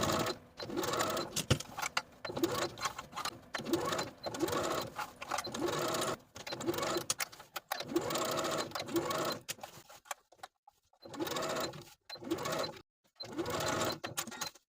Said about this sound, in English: Then we'll sew the facing to the neckline with a 3/8 inch seam allowance